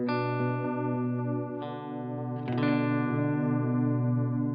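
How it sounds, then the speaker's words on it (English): Electric guitar through a digital delay pedal set for a tape-delay sound with generous modulation, sustained chords and notes ringing with wobbling repeats and a new chord struck midway, loud and up close. "Like a tape delay."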